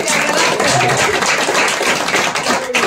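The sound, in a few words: audience clapping to welcome guests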